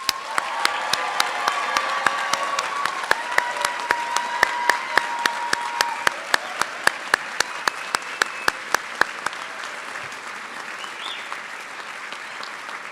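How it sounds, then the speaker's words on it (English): A crowd at a university graduate degree ceremony claps in sustained applause for the class of 2024, with sharp individual claps standing out near the microphone before gradually thinning toward the end. "Please join me in the first of many rounds of applause for the graduates of 2024."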